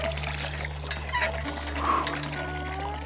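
Water trickles and splashes in an old steel bucket at a desert campsite, a faint gurgling over a steady low hum, close by with no talk.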